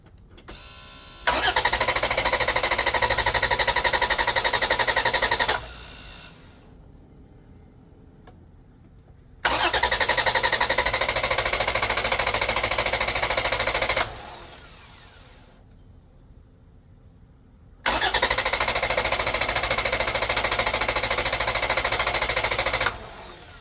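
A car engine cranked by a VTOMAN X7 4250A jump starter, heard as three long, loud bursts of rapid starter churning with quiet gaps between them.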